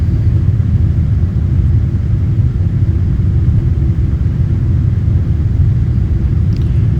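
Emirates EK545 climbs out of Chennai on takeoff, heard from inside the cabin as a loud, steady, low engine roar and rumble that holds unbroken throughout.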